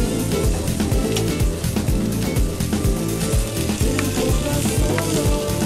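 Chicken pieces frying in a little oil in a large frying pan, a steady dense sizzle with crackling pops, loud and continuous throughout.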